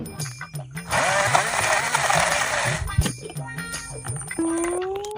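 An electric juicer crushing pineapple is switched on and gives a loud, harsh grinding burst that lasts nearly two seconds, with brief clatter and a sung or spoken voice around it.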